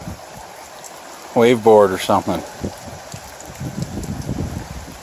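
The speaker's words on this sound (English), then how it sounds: "Starting to rain." Steady rain patters outdoors during a July storm, a soft wash of noise continuing under a man's brief spoken remark.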